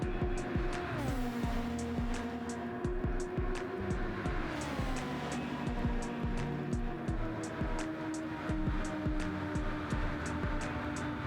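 Race cars roar down Spa's Kemmel straight in Gran Turismo 7, a loud, continuous engine drone whose pitch climbs and drops through gear changes, with faint ticking and tire noise running throughout.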